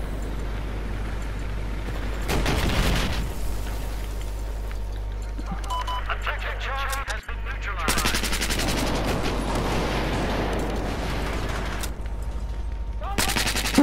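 Video game gunfire in Battlefield 4: loud bursts of rapid automatic shots in several volleys, with booming effects and a voice talking between them.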